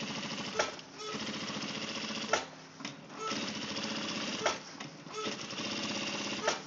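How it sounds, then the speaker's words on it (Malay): A sewing machine stitching the back of a JPJ uniform shirt, running in fast rattling bursts with brief pauses and clicks between runs. "Jadi kita buat lagi satu jahitan."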